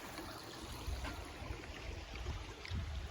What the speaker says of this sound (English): A little water flowing down.